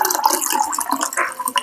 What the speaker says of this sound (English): And then we're gonna top it with some soda water.